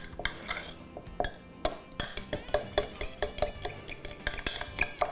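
A utensil stirs a maple syrup mixture in a bowl, making steady, rhythmic clinks and scrapes against the sides, close and clear, with no talk.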